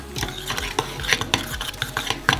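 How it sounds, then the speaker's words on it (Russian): Mashed potato dough for homemade chips being stirred in a bowl, a rhythmic series of close scraping and knocking strokes with a few sharper clicks of the utensil against the bowl. "Перемешиваем."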